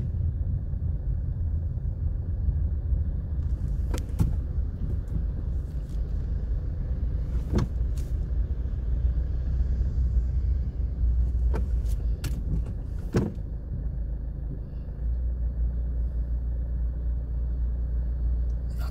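A car driving along Budapest's lower embankment by the Parliament in evening rush hour: a steady low engine and road rumble heard from inside, with a few sharp clicks and knocks in the cabin and no talking.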